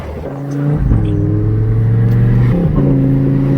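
A Lamborghini Huracan engine droning close up, revving higher with a quick gear change midway, steady and loud, no talking.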